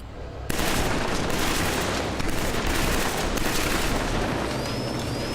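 Continuous heavy gunfire at a shooting range in Killzone 3. A dense, steady barrage runs loud from just after the start to the end, with no pauses between shots.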